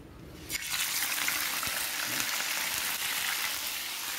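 Loud, steady sizzling and crackling of garlic frying in hot oil, starting abruptly and continuing close up with no talking.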